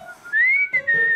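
A short, clear whistle slides up in pitch, holds, then steps down to a lower sustained note, close and alone.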